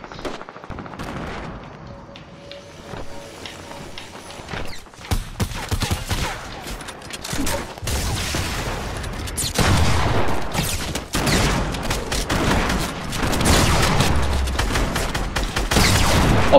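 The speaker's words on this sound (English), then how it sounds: "So if I try and get one shotgun shot off, and then pump, and then try and get a quick one shot off" Shotgun blasts and pump actions in the Fortnite Battle Royale video game, a dense run of loud, close gunfire bursts that continues through the whole stretch with little pause.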